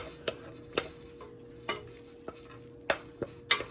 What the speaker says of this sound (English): Garlic in, and I'm just gonna stir it around